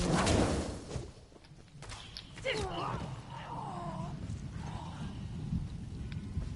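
Rain and thunder in the Elder Scrolls Online video game: a loud rumbling thunder burst opens over a constant hiss of rainfall, which carries on steadily with a few faint higher chirps mixed in.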